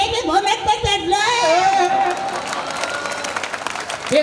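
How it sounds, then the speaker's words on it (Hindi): An audience at a kavi sammelan poetry recital breaks into loud, sustained applause mixed with crowd chatter, rising after a voice speaking over the start. "आनंद आया तो दोनों हाथ उठा के एक बार जोरदार तालियां बजाओ"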